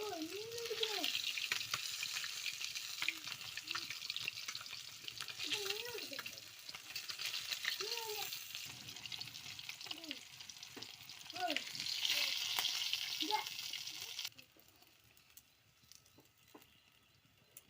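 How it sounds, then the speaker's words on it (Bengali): Pieces of rohu fish sizzling in hot oil in a home kitchen, a steady close crackle and spatter with occasional stirring, a voice talking over it, then quieter near the end. "বাকি মাছগুলো যে রয়েছে"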